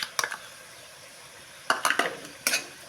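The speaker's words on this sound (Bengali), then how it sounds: "এটাকে ভালো করে কষিয়ে নেব" Spice masala with ground cashew paste is stirred and fried in a pan: a low sizzle under several sharp spoon scrapes and clacks against the metal, in short bursts separated by quieter frying.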